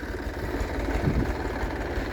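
A compact orchard tractor idles nearby, giving a steady, low, throbbing engine rumble that holds at a constant, moderate level without revving.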